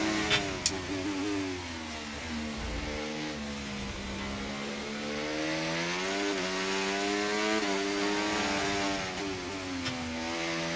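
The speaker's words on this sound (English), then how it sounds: "Massive lift off there. The car was sliding." Formula 1 race car engine in the video game F1 24, a high-pitched whining drone that climbs and drops with gear changes and lifts off the throttle, continuous and prominent throughout.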